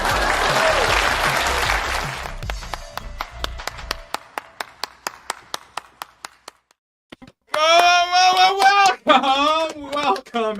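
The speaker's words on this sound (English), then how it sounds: "Please clap." Applause on a stream, a burst of crowd clapping and cheering that thins into a run of separate, evenly spaced single claps and stops, followed by a voice speaking.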